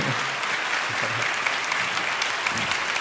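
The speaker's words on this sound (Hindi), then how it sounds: "जोरदार ताली बजाइए।" A congregation at a religious testimony gathering breaks into loud, continuous clapping, a dense crowd applause with a few low vocal murmurs underneath.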